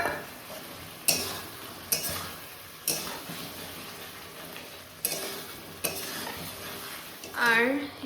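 Spiced masala with potatoes fries in a pan as an egg is added, a steady sizzle broken by several sharp stirring knocks at regular intervals, with brief speech at the end.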